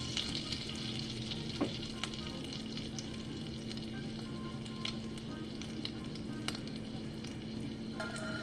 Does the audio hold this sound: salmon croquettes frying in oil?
yes